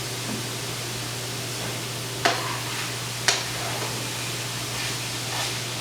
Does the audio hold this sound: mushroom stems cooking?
yes